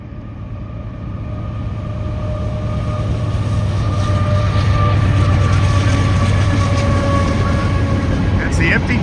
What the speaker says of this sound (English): got a CSX coming down there.